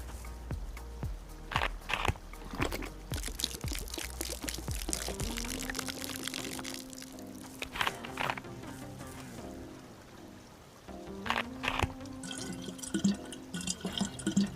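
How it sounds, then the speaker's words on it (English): A water bottle in the DayZ survival video game is emptied and refilled, a close, steady gurgling pour that runs for several seconds and then returns after a short pause, with drips and bubbling. "dump out that water, that unknown liquid that we have, and fill it up with trusted, fresh spring water"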